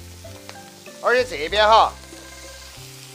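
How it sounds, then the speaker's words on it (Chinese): Red-headed garlic sprouts hit a hot wok for Sichuan twice-cooked pork, a continuous close sizzle with spatula stirring, briefly covered midway by someone talking. "蒜苗头子下锅，铲它两下，来叶子又下"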